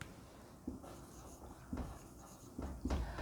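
A pen writes during an astrology lesson as a planet is marked on a chart. Several soft scratching strokes come close and quiet, separated by short pauses.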